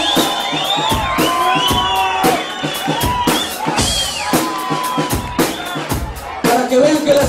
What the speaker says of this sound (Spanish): Quiero pedirles un aplauso de bienvenida para Naza en la batería y el de Cristiano